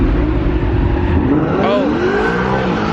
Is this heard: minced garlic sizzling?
no